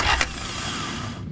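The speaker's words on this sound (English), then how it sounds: "we can just rotate the engine round on the starter and get it to the right point" A 1989-era Honda Civic EF with a B18C4 engine is bumped over on its starter motor, a short whirring, cranking burst lasting about a second, close and alone.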